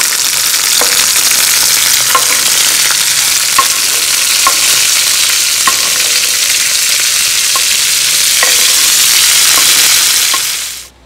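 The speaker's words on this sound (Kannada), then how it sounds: "ಇವಾಗ ನಾನು ಇದನ್ನು ಚೆನ್ನಾಗಿ ಹುರ್ಕೊಳ್ತೀನಿ" Chopped tomatoes frying in ghee with green chillies, a loud, steady close-up sizzle with faint periodic taps of stirring, fading out abruptly at the end.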